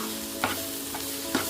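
Cabbage curry roasting in a pan, a soft steady sizzle with two brief stirring scrapes spaced about a second apart, close and fairly quiet, with no voices.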